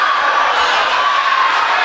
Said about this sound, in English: As you can hear the crowd getting rambunctious, enjoying themselves for the free candy from the cheerleaders.